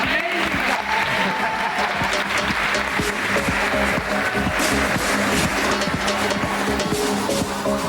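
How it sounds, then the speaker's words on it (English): Applause at a barber gathering, a dense steady wash of crowd clapping and noise throughout, with mechanical hum and tonal background sounds mixed in. "Guys, hand of applause."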